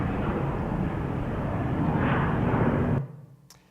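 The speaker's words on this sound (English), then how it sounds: "That sound you hear behind me is one of the planes being de-iced here at the Eugene Airport." An airplane being de-iced at Eugene Airport produces a loud, steady roaring rush close by, which cuts off abruptly near the end and leaves a quieter background.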